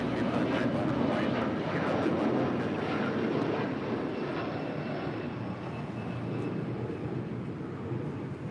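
A 30-year-old Boeing 737-400 jet departs LAX with a steady, broad engine roar that fades slowly as it climbs away.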